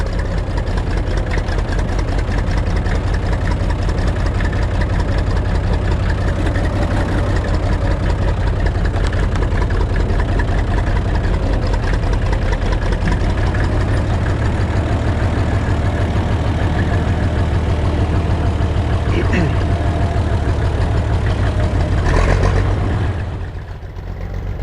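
A Massey Ferguson 95X tractor's six-cylinder engine idles nearby with a loud, steady, deep rumble, holding an even beat throughout and dipping briefly at the very end.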